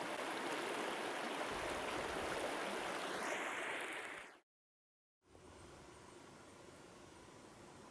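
A river rushing past a campsite in Lapland, a steady broadband wash of flowing water heard close and continuous, briefly cut to silence before resuming at a lower level.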